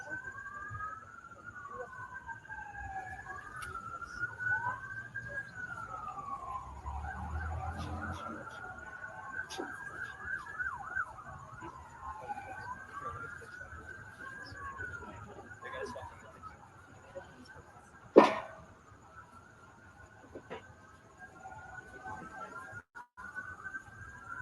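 Sirens wail in the distance, rising and falling in long sweeps for most of the stretch, with a low murmur and a sharp knock partway through.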